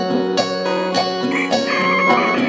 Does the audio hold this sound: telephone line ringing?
no